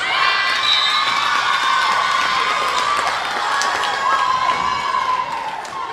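A girls' volleyball playoff crowd cheers loudly and steadily after a point off the serve, a dense wash of shouting and whooping voices that stays full for the whole stretch.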